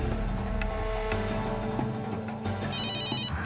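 A telephone rings in a tense domestic drama scene, its repeating electronic ringtone pattern sounding steadily over a dense musical underscore, fairly loud and close with no talking.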